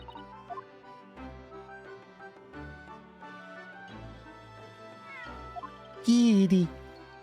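A cartoonish cat in the video game Great Kitty meows several times in short bursts over game music, ending in a louder, drawn-out yowl near the end.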